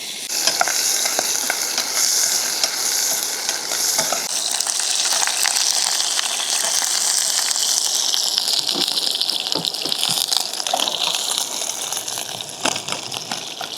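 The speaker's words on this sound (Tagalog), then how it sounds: "Yung sizzle" Meat fries in hot oil over a strong campfire during motorcycle camping at a nature camp, giving a loud, continuous, crackling sizzle that stays steady throughout with occasional sharper pops.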